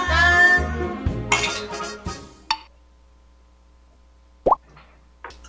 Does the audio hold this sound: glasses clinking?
yes